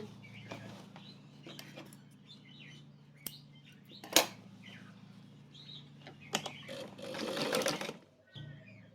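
A sewing machine stitches along the corner edge of a wrap skirt, running quietly in short bursts with pauses between them, while birds chirp in the background and someone talks.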